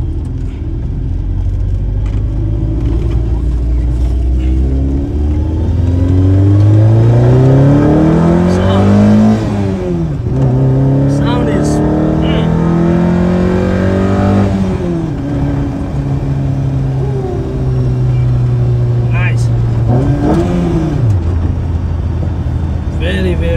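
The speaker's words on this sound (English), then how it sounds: "I'm just gonna do a quick pull with the car" A VW MK1 fitted with a 272 cam accelerates hard through the gears, its engine note climbing and dropping with each shift, loud and close throughout.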